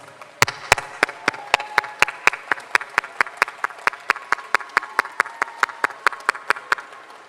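Applause at a university convocation ceremony: sharp, evenly spaced claps ring out one after another in a steady rhythm, loud and close, over a faint hall background.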